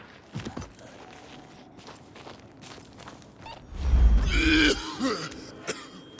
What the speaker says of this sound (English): Me coughing that loud has no effect on them?